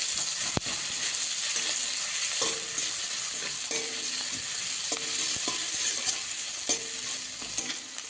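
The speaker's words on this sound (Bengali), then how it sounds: "পেঁয়াজ আর রসুনটাকে একটু লাল লাল করে একটু ভেজে নেব" Onion and garlic frying in a pan, a steady close hiss of sizzling oil running throughout with occasional scrapes and clicks of a utensil stirring, no voices.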